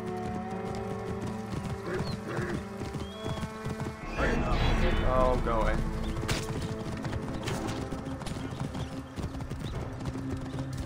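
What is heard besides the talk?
horse hooves galloping in a video game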